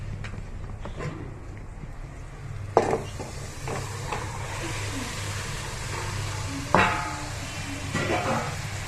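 Tripe (boti) dropped into a hot pan for a curry, giving a low steady sizzle with a couple of sharper clanks and stirring scrapes near three and seven seconds, close by with no talking.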